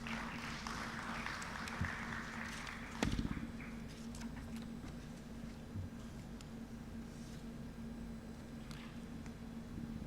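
Audience applause for the Honorable Minister at the opening of an economic growth forum, a steady, fairly distant patter of many hands clapping, continuous throughout with a steady hum beneath.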